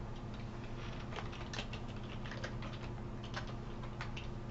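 Fingers type a domain password on a computer keyboard in a quick, light patter of key clicks, faint under a steady background hum, with no talking.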